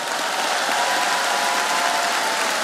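Dense, steady audience applause fills a comedy show hall, a loud continuous wash of many hands clapping without a break.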